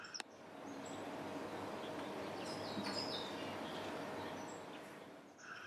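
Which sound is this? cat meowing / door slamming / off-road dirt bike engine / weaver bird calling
weaver bird calling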